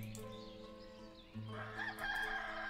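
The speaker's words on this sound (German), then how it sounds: "die bringt gerade die Hühner darüber." Chickens and a crowing rooster in the Ostiv village-building video game, a clear sustained cock-a-doodle-doo with clucking hens, fairly close and alone without talk.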